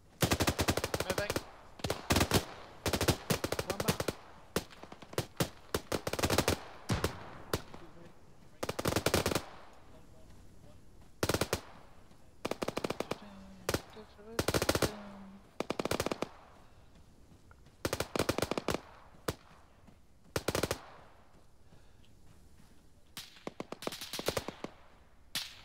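Rapid bursts of automatic gunfire and single shots in the Arma 3 multiplayer video game, loud and close, cracking in irregular clusters with brief pauses across the whole stretch, faint talk in between.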